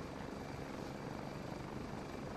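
An aircraft engine drones steadily in a battle royale video game, a constant whirring roar with no talk over it.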